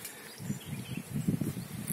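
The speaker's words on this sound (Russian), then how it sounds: "Пчелы залетают туда. Активность высокая" A low droning buzz of bees that swells and pulses, steady and fairly close, with no talking.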